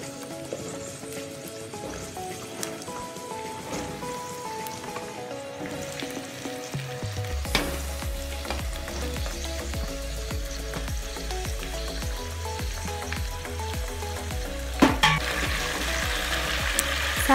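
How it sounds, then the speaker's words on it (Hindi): Onion and vegetables frying in a pressure cooker, a continuous close sizzle with scattered pops and a brief stirring clatter, growing fuller and louder as more goes in, alone without voices. "अनियन और इसे थोड़ा फ्राई कर लेंगे।"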